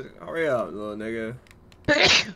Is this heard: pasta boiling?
no